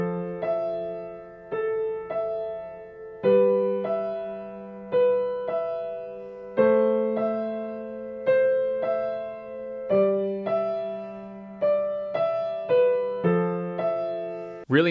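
Simple piano left-hand notes from an easy arrangement of a film theme, a slow repeating three-note pattern played evenly and alone, each note ringing and decaying before the next.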